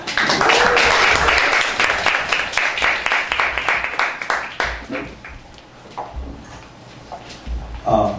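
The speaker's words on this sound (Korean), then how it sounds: "박수로 모시겠습니다" Loud audience applause at a talk concert as a speaker is introduced, many hands clapping together, sustained and then gradually thinning out near the end.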